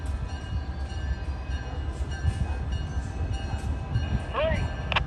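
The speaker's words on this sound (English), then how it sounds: "they're going to cut the locomotives off" Norfolk & Western locomotives rumble as they are cut off from a train, a low continuous mechanical drone with brief metallic squeals and clanks near the end, no speech heard.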